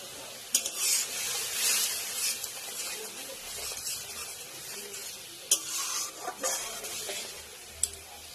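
Mustard fish curry boiling in a pan: a steady, fairly loud bubbling hiss with a few sharp utensil knocks scattered through.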